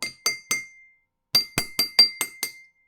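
A glass of water is tapped to ring out its pitch, with several glasses at different fill levels including an empty one. Three clear clinks are followed by a pause, then six more ringing taps, close and alone.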